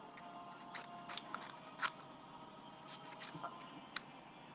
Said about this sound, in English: what I'm going to do is fussy cut those two little flowers